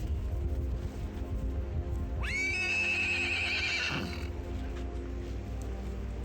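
A Faroese horse gives one loud, close whinny that rises sharply, holds, then trails off over about two seconds, set against a steady outdoor rumble.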